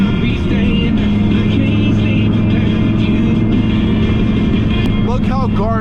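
Deep, droning exhaust rumble of a nitrous-equipped Dodge Viper ACR on the road, heard close from inside the cabin, steady and loud with a brief rising rev near the end.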